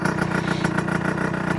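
A motorcycle engine idles steadily and loudly close by, with an even, fast pulsing throb and no voices over it.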